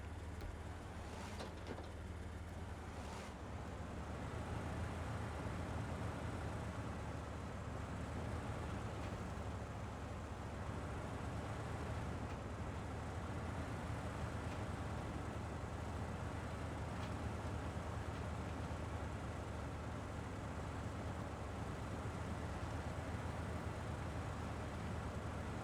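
In the Snowrunner video game, a truck hauls an airplane on its back during a night drive, giving a steady low engine rumble and broadband road noise that holds constant throughout without any talk.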